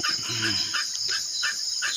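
Chickens clucking close by in quick, repeated bursts, with a busy farmyard chorus behind them.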